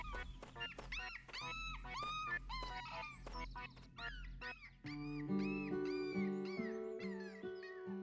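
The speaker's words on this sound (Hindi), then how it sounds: "तुमने वो सुना? ये एक पपी है, चलो इसे ढूंढे।" A cartoon puppy whimpers and whines in high, wavering cries over the first half, then a bright run of sustained musical tones takes over toward the end.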